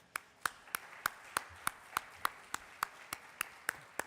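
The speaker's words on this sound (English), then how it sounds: "So I'd like to invite the audience to join me in applauding our panelists." Slow, evenly spaced hand claps ring out one at a time, about three per second, for a panel discussion audience, crisp and fairly close over a quiet room.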